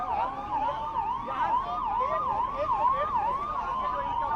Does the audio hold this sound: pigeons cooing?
no